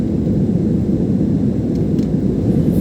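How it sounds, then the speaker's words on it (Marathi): Steady, loud broadband roar of a passenger airplane cabin on a night flight from Chicago to Florida, climbing after takeoff, a continuous low rumble with no breaks. "शिकागो एअरपोर्टवरून फ्लोरिडाला जाणारे हे फ्लाईट"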